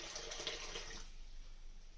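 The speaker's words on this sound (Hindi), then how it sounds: "इसी में मैं 1 कप पानी लूंगी।" Water pours from a cup into gram flour for boondi batter, a close, bright splashing stream lasting about a second before it stops, leaving quiet room tone.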